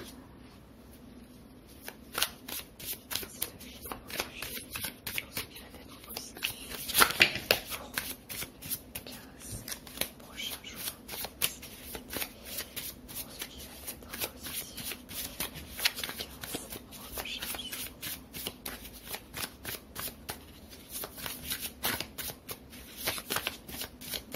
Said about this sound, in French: je vais tirer 3 cartes du tarot de Cliff